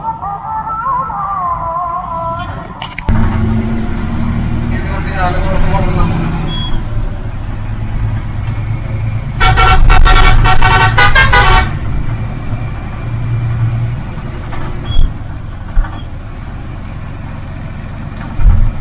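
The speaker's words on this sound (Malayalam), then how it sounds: "അപ്പോൾ പെട്ടെന്ന് നമുക്ക് വണ്ടി എടുത്തിട്ട് ഓടിക്കാം" A sleeper seater tourist bus drives on a Kerala road with a steady low engine rumble throughout, and a burst of loud, repeated horn toots comes midway along with a few sharp knocks.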